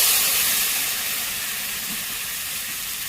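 Fish with mustard paste sizzling in a pan for a simple village-style fish dish, a steady, close hiss that carries on evenly with no talking.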